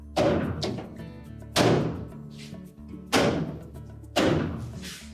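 Four solid thumps, spaced about a second and a half apart, as a Frigidaire refrigerator's plastic kickplate grille is knocked firmly into place close by.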